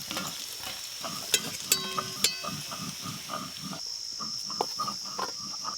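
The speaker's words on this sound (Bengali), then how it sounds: "এদিকে মাছের ডিমের বড়াগুলো ভাজা হয়ে গেল, তুলে নেব।" Fish roe fritters sizzling in oil in a village kitchen, with a continuous crackle, rhythmic spatula scraping and stirring, and several bright metallic taps against the pan as the fritters are lifted out.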